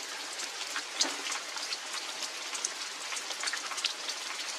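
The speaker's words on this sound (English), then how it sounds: "So it's raining out there." Steady rain falls outside, heard from inside a cave, in a continuous soft hiss, with scattered drops pattering throughout at an even, moderate level.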